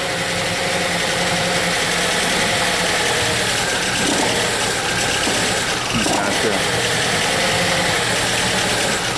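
A Saab 9-3 turbo engine idles roughly with an intermittent fault and injectors staying on, a steady close mechanical drone with uneven knocking that briefly shifts around the middle, no speech over it.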